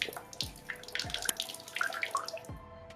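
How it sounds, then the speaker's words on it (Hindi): Water runs from a tap with a faint, continuous trickle and splash, broken by a few soft drips and clunks. "इतना पानी बह रहा है।"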